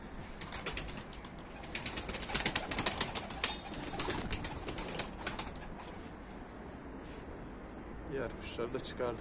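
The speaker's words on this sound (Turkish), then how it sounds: "Diğer kuşları çıkarayım da rahat rahat insin arkadaşlar" Pigeons being released during a training flight, with bursts of wing flapping and soft cooing at close range, loudest in the middle, while someone talks over them.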